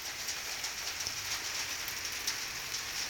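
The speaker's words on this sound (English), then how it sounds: "it's raining, it's pouring" Steady rain pattering on outdoor surfaces, including a backyard trampoline, a constant dense hiss of drops with no voices, close and even throughout.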